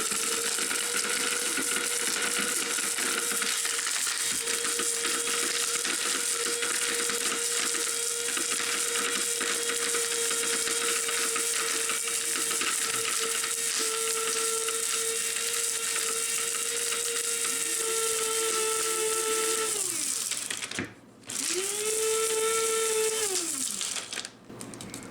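Electric grinder pulverizing dried chaga mushroom into powder, a loud steady whirring drone held for about twenty seconds, then a brief cut-out and a quick restart that spins up and winds down.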